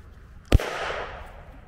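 A single sharp crack from a Bruni 315 Auto semi-automatic blank pistol fired once, loud and close, followed by a short fading echo.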